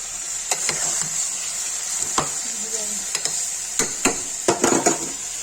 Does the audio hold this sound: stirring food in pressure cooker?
yes